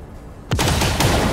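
A sudden burst of rapid gunfire in the video game XCOM 2: War of the Chosen erupts after a short quiet moment, loud and close, with repeated sharp shots in quick succession.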